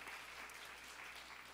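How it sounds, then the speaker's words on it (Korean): A church college congregation claps for its leaders in a sustained round of applause from many hands, heard as a dense, even patter at moderate distance and fairly soft. "리더십들에게 다시 한번 또 격려와 축복의 박수를 보낼까요?"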